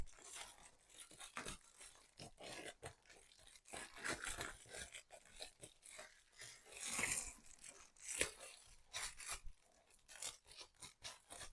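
Scissors cutting crinkly paper into pieces for a junk journal cover, faint close snips and crisp crinkling rustles in an uneven, intermittent rhythm with no talking.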